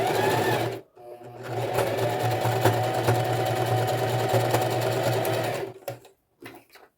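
A sewing machine stitches a seam on a fabric knee pad, running at a steady motorised hum with rapid needle clatter, then halting and giving a few short final bursts.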